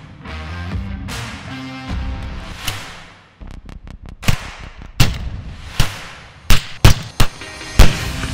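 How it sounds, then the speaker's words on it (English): Shots from a Walther P22 pistol firing .22 long rifle at a bulletproof plate. A quick run of sharp cracks comes first, then several louder, spaced reports ring out close by after some earlier muffled noise. "Let's get to shooting because that's what you guys are here for. First up, 22 long rifle."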